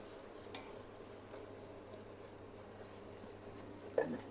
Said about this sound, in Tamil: மைதாவை போட்டு குக் பண்ணிக்கலாம் அந்த தண்ணியில்.